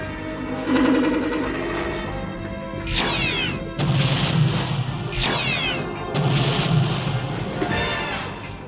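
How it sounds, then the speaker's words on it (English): Animated sci-fi combat as combined Romulan weapons fire destroys a Gorn ship: sweeping energy-blast zaps and explosive crashes over a steady rumbling score, several loud shots in sequence, no voices. "The combined Romulan weapons fire has taken out the Gorn permanently."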